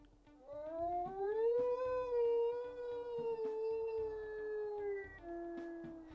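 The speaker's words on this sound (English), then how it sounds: "Kind of a mid-toned howl there" A wolf in a video game gives a long, mid-toned howl that rises, holds and slowly falls, clear and fairly close, alone without talk.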